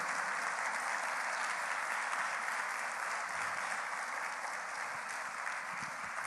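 A congregation at a church service claps steadily throughout, a dense, even wash of applause with no talking over it.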